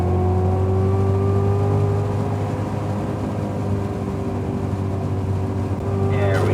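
A Cadillac CTS-V speeds down a long straight at the Circuit of the Americas track, its engine a steady loud drone with a rising whine held throughout, close and continuous.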